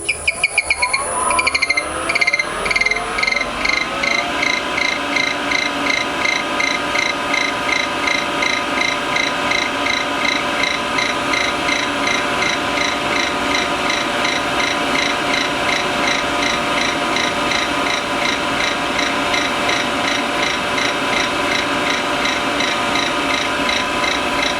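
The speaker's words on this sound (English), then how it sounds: "the lathe up as fast as it'll go, and we'll burnish this finish in" A lathe spins at top speed while a key ring finish is burnished, giving a steady close mechanical whir with a rapid rhythmic ticking, chirping rattle that settles into an even pulse.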